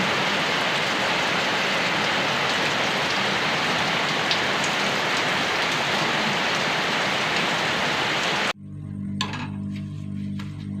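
Dense, loud downpour of heavy rain hammering steadily, then cutting off abruptly near the end to a quieter background with faint tones.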